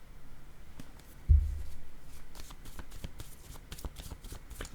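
A single word card pulled from a deck during a card reading, a soft papery slide and flick up close, followed by faint rustling and light handling taps of the cards.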